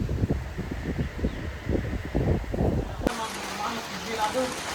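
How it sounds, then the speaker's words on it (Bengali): Strong wind gusting outdoors at a farm, buffeting the microphone in loud rumbling bursts before easing to a calmer background with birdlike chirps. "আজকের আবহাওয়াটা সুন্দর অনেক, খুবই বাতাস দেখতে পাচ্ছেন"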